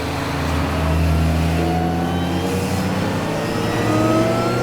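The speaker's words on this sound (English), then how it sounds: "The Miata, on the other hand, is very underpowered without the supercharger, which I constantly hear whining behind me." Supercharged Mazda Miata engine on a winding road, a steady mid-pitched drone with rising whine tones as it revs and accelerates, close and continuous throughout.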